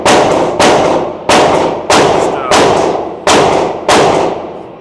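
Six loud, sharp gunshots from a Shadow Systems CR920XP rifle at an outdoor range crack out in an even rhythm, each followed by a ringing decay.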